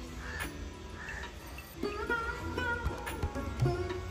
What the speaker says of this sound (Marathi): कावळा सुद्धा पावसात भिजत आहे.